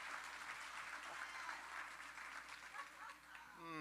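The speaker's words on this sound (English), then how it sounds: "why don't you all give yourselves a great round of applause" An audience at a Louisiana community energy meeting applauds, a sustained crowd of clapping that carries through with some voices mixed in, thinning slightly near the end.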